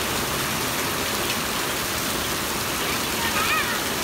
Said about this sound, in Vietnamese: Ôi lại mưa to rồi